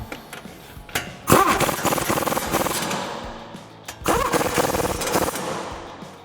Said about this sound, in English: I'm gonna use my 1/2" air impact gun with my 21mm. Tighten these up a while.